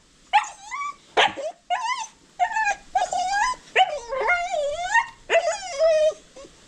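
A dog that wants to go outside barks, yips and whimpers in repeated high, wavering cries, close and insistent with brief gaps between them.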